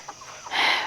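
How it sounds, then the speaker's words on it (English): Barred Brahma rooster and other chickens clucking close by, a few short clucks followed by a louder burst of squawking in under a second. "So there's a few roosters in here."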